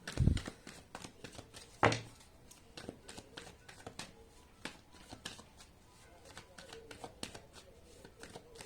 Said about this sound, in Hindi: तो चलिए शफल करते हैं आपके कार्ड्स।